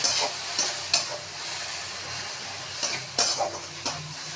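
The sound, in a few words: yogurt poured into frying pan and stirred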